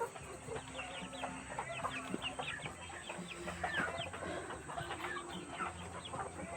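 A flock of young three-month-old kampung chickens, including maturing roosters of the Mardi type, clucks and chirps continuously in a close, busy chorus of short overlapping calls, with no talking.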